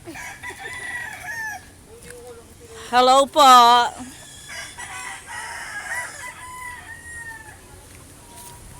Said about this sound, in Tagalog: makikita nyo madaming manok.